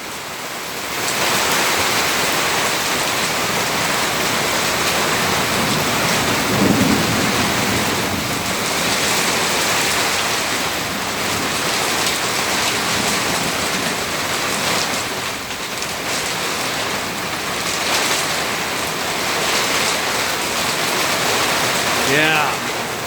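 Heavy rain from a thunderstorm pours steadily and loudly throughout, a dense hiss that never lets up, with a low rumble of distant thunder swelling partway through.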